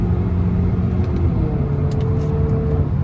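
Loud, close Honda HR-V engine on an E20 ECU remap droning and rumbling steadily, with the engine pitch holding then shifting slightly as it revs.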